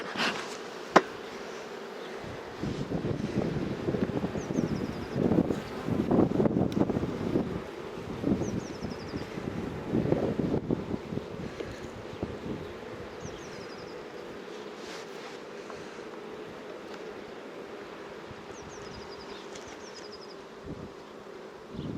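A honeybee swarm hums steadily around six hive frames in an outdoor apiary, a dense continuous buzz with scattered bees passing close, broken by gusts of wind noise on the microphone.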